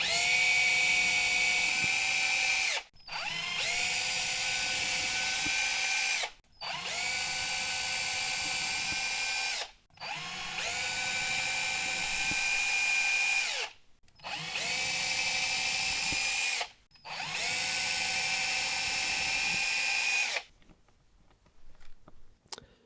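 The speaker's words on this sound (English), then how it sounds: "Doing all these pilot holes, all the drilling." A power drill bores pilot holes for a dart mat, six long high-pitched whining runs separated by short pauses, loud and close, ending in quieter handling noise.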